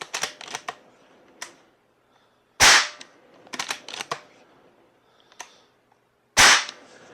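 Walther Dominator 1250 air rifle discharging twice, each shot a sharp loud crack, with quieter clicks and clacks of the bolt being worked and the mechanism handled in between.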